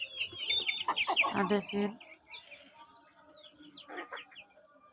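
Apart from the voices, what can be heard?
chickens clucking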